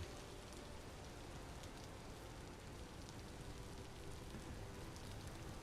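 Steady, dense video game rain in Vintage Story hissing and pattering without letup, loud and close, with no voices over it.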